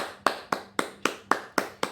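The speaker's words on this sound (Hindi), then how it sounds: "आइए हम प्रभु के लिए ज़ोरदार ताली बजाएंगे" Seven evenly spaced sharp claps about a quarter second apart, crisp and close, alone with no talk; a steady rhythmic clapping at a church worship service rather than a broad audience roar.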